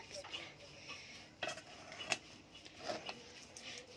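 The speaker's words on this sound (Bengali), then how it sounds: "এখন আমি এই চালগুলা অর্থাৎ যেগুলা একটু আগে ভাপে দিয়েছিলাম মাটির হাঁড়িতে সেগুলো এখন দিয়ে দিব" Steamed rice being spooned into a clay pot: scattered light scraping and clinking of a utensil against the pot, faint and close, a few distinct knocks over quiet room tone.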